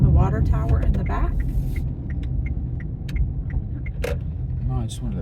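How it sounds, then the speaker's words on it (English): A car passing on a road lined with fraternity and sorority houses in a college town, a steady broadband rumble of tyres and engine that holds close and loud throughout while people talk over it. "I just want to let this car pass."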